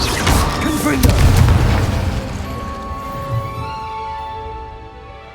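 A Confringo blasting spell goes off in Hogwarts Legacy, a loud booming burst that rumbles and decays into a lingering, fading tail within the game's soundscape.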